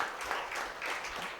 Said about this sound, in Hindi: जोरदार तालियों से उनका धन्यवाद करें